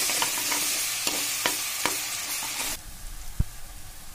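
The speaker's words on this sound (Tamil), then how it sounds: "இது எல்லாத்தையும் சேர்த்து நல்லா வதக்கிடுங்க" Chili powder and green chilies are sautéed in hot oil for mutton kurma, a steady close sizzle with a few sharp spatula scrapes and stirs, the frying hiss dropping away partway through before a single knock near the end.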